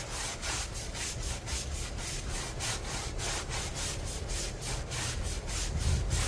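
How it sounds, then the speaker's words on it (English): Stiff wheel brush scrubbing blue protective coating off new tires on a 1951 Dodge Wayfarer, a steady rhythmic back-and-forth swishing with fast repeated strokes, close and continuous, with no talk. "not super stiff wheel brush, but stiff enough to agitate that blue protective coating on the tires"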